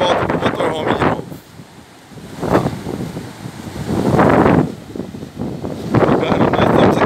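Wind and ocean waves wash over the sand at Atalaia beach in Salinópolis, Pará, as the tide rises, with surges swelling and fading in a steady rhythm under a constant wind roar.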